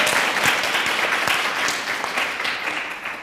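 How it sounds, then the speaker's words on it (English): Loud, full audience applause at a panel talk event on journalists, continuous clapping that stays strong throughout and eases slightly toward the end. "Please clap it up for her."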